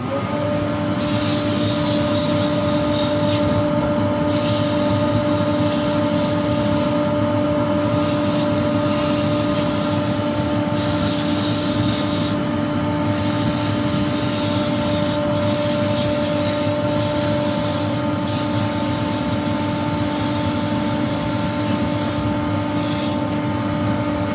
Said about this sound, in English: We're going to sand that and get him turned around.